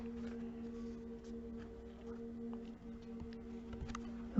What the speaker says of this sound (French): une guêpe que j'éloigne